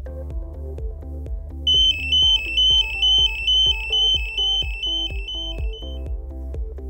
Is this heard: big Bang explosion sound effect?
no